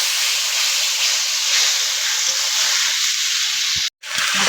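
A spice mixture of ginger paste and five-spice seeds sizzles in oil with a steady, loud, close hiss and a few soft knocks, ending in a brief silence before the hiss resumes.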